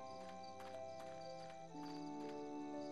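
A horse in a Lord of the Rings: Fellowship of the Ring video game, with steady clip-clop hoofbeats and a possible whinny over sustained game music, no talking.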